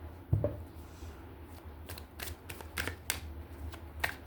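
A tarot card deck shuffled by hand, a series of crisp close riffles and card flicks at irregular intervals, with a soft thump near the start and no speech.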